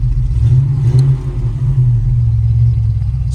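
A Chevrolet Blazer engine idles loud and close after starting, a steady low rumble holding evenly throughout.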